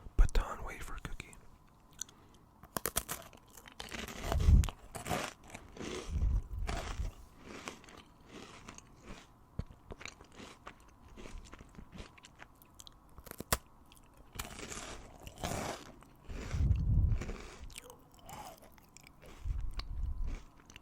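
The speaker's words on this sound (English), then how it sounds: "A cookies and cream baton wafer cookie." Soft crunching bites and chewing of a cookies and cream baton wafer cookie, close and quiet, in scattered bursts with long gaps and faint breathy sounds between.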